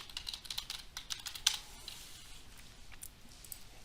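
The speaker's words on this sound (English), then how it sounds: "and then you type in the name" Computer keyboard typing close by, a quiet burst of irregular key clicks with a louder tap near the middle, no talking.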